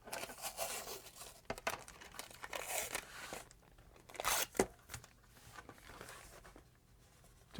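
Tamiya masking tape being pulled and laid along a scale model's border, soft crinkling and tearing rustles in irregular bursts, faint and close, with no talk.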